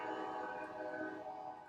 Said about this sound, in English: there's a train going by if you can hear that